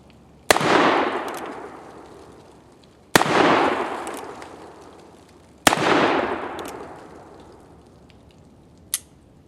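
Three loud revolver shots from a Great Western II single-action revolver firing 44-40 and 44 special rounds, each a sharp crack with a long echoing decay, spaced a few seconds apart, followed by a faint metallic click.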